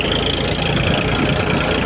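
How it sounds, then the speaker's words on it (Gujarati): A loud, steady tractor engine rumble runs throughout during sowing in a field, close and unbroken, with a dense low throb. "પાછું અમારું ટ્રેક્ટર શરૂ થઈ ગયું છે"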